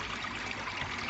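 Water trickling from the outlets of a koi pond, a continuous close splashing, bubbling flow with no talk.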